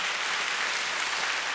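A congregation at a church retreat gathering claps in praise, a dense, even wash of applause from a large crowd, steady and unbroken with no speech over it.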